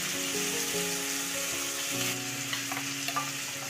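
Onions fry in a pan for chicken pulao, a steady close sizzle with occasional stirring scrapes, and soft background music underneath.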